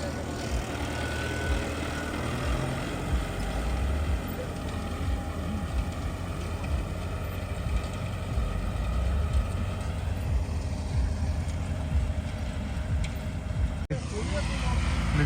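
A tractor engine running steadily during wheat sowing, a continuous loud, low rumbling drone that holds an even level throughout, with a brief dip near the end.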